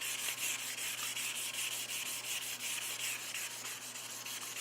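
Fine 400-grit sandpaper wet with alcohol rubs over a plaster cast in quick, even back-and-forth strokes, a soft, close, rhythmic scratching with no talking.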